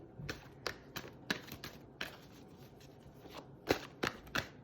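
Soft papery riffling and snapping of a tarot deck being shuffled in irregular bursts, quiet and close, with no voices.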